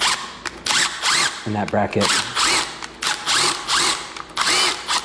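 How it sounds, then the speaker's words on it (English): A drill drives a screw into a recessed light bracket during a ceiling install, its motor whirring in short close bursts between stretches of someone talking. "Just take your drill like this,"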